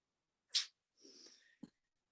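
A single sharp sneeze bursts out, followed by a short breathy exhale and a small vocal sound, then quiet.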